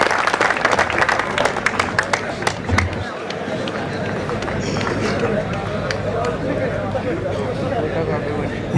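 An audience at a mushaira poetry gathering in Belgaum claps in sustained, lively applause. Voices carry over and among the clapping throughout.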